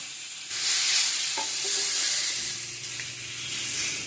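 Pork steaks sizzle on an Ozark Trail griddle, a steady close hiss of frying with faint scraping and stirring noises over it.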